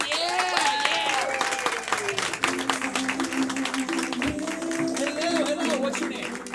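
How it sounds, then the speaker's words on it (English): An audience at a live event show claps for a volunteer called up from the crowd, a steady patter of applause mixed with music and voices throughout. "Clap for them, everyone."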